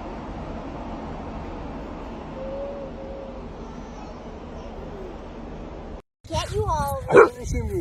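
A happy dog gives short yips and whimpering barks near the end, after several seconds of steady background noise, with people talking over it.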